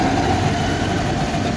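An electric rickshaw's motor runs steadily after the accelerator is pressed, giving a continuous close hum with a faint whine and no pauses.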